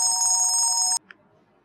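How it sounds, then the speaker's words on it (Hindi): A telephone rings with a steady electronic tone for about a second, then cuts off abruptly and leaves near silence. "अरे हीरा का फोन भी आ गया।"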